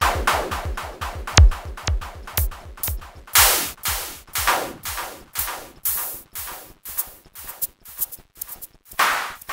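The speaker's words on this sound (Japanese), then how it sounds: "ドラムシンセは、さっきも言ったようにキックの音とハイハットの音とスネアの音が入ってますと。" SunVox drum synth beat of punchy kicks, crisp hi-hats and snappy snares in a steady, fast rhythmic pattern, cheap and electronic in character, played alone and fairly loud.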